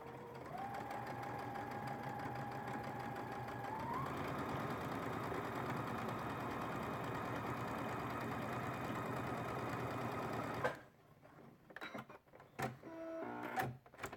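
A sewing machine stitches fabric for a flying geese quilt block, whirring steadily for about ten seconds before stopping abruptly, followed by scattered clicks and handling sounds.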